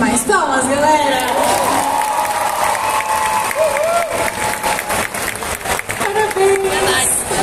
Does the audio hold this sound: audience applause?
yes